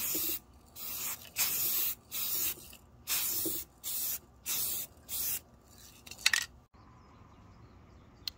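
Rust-Oleum Camouflage Ultra Flat spray paint hisses from an aerosol can in about seven short, even bursts, each around half a second long with brief pauses, close and fairly quiet, ending with a couple of faint clicks.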